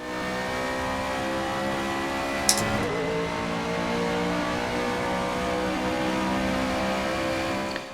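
Iconic Super GT race car engine at Suzuka circuit, a loud, sustained high-revving drone held steady from start to finish, with a short sharp click partway through and no voices.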